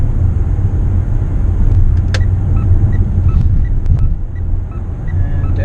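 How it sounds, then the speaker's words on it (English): A Mitsubishi Outlander PHEV accelerating to 100 km/h in electric mode, heard from inside as a loud, steady low rumble of road and tyre noise with a faint whine and a few light clicks. "Now we're accelerating to 100 kilometers in electric mode."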